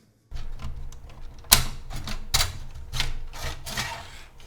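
Central piece of an Arctic Freezer 50 CPU air cooler being pulled out of its toothed metal heatsink, giving a series of harsh scraping, clicking rasps with several sharp louder snaps, close and alone.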